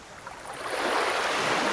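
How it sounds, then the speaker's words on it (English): Ocean waves roll onto a beach at Baros Beach, Crete, in a Unity-rendered scene, a soft rushing wash that swells steadily louder over its short span. "Running waves scatter."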